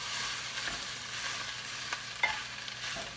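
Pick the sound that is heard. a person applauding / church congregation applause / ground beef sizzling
ground beef sizzling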